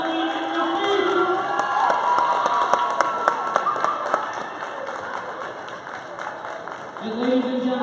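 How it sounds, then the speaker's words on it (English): A women's college basketball crowd at Central Penn College cheering and clapping, a loud swell of applause with scattered shouts and whistles that fades briefly before cheering rises again at the end. "let's give a round of applause to Natalie Richard"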